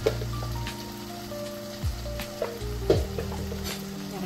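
Egg and dried shrimp curry sizzles in a pan, a steady frying hiss broken by a few scraping stirs and clinks, close and moderately loud with no talking.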